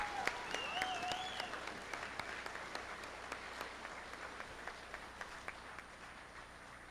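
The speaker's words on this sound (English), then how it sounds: "please, everybody, a big round of applause for our graduating class of 2023." A crowd applauds a graduating high school class steadily, many hands clapping in a dense, sustained wash that gradually fades slightly, with no talking over it.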